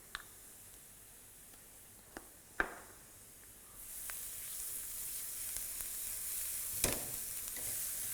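Onions sweating gently in a pan for chicken curry, a soft quiet sizzle that builds and holds steady, broken by a few sharp clicks and taps of stirring.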